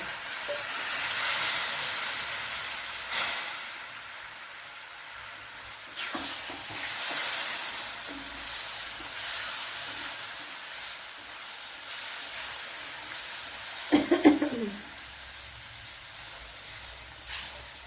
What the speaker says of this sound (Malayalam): ഇനി ഇതിലേക്ക് നമ്മുടെ പുളിവെള്ളം ഒഴിച്ചു കൊടുക്കുക.